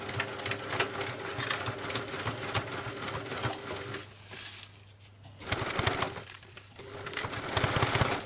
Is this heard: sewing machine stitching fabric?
yes